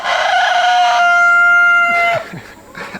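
A newly acquired rooster crows once, loud and close, holding a long drawn-out call for about two seconds, followed by a few short low clucks from chickens nearby.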